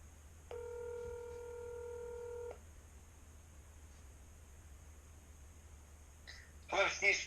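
Touch-tone phone keys beep through a short dialing sequence, a steady tone cluster lasting about two seconds over faint line hiss, followed by quiet and a brief crackle near the end.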